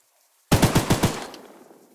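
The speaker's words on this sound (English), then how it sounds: "Let's shoot some targets." A short automatic burst of gunfire at targets in the video game Choo Choo Charles, about five rapid shots followed by a fading echo, loud and sudden with no talk over it.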